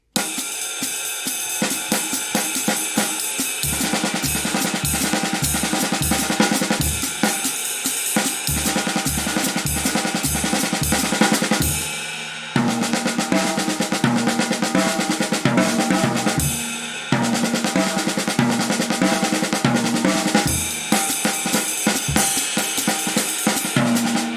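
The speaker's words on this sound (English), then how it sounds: "the 4-measure phrase I mentioned is 4 paradiddle-diddles, a right paradiddle, and then a left paradiddle" A full drum kit plays a dense, rapid four-measure paradiddle-diddle sticking pattern with right and left paradiddles, steady kick drum pulses and crashing cymbals, loud and continuous.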